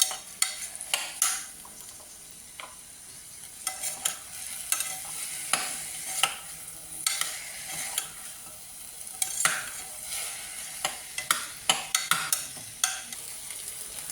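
Two cups of washed basmati rice are sautéed and stirred in a pan: repeated scraping, shuffling strokes of a spoon in an irregular rhythm over a quiet, soft sizzle, with no talking.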